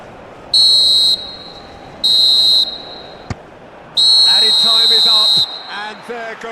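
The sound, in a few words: referee whistle in football video game PES 2021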